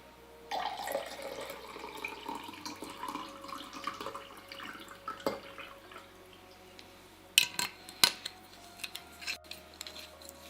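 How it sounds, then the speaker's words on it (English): A big glass is refilled from a tap at a home desk, with water trickling and splashing in bursts and a few sharp clinks near the end. "I need to refill my water. Another big glass of water incoming."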